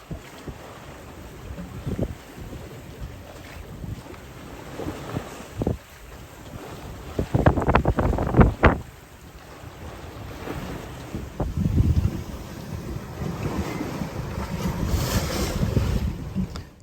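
A sailboat moving along a coast in building wind, with waves slapping the hull and wind buffeting the microphone in a steady rush, plus a few sharper splashes midway.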